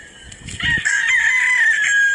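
A white streamer Kanawayon gamefowl rooster crows once, loud and close, a sustained bright call after a brief scuffling onset.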